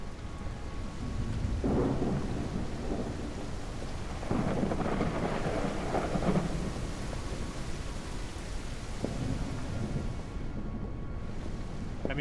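Rain and thunder in a rainy-night detective game set at a motel, steady rainfall underneath with several deep rumbles of thunder rolling in and fading, no voices.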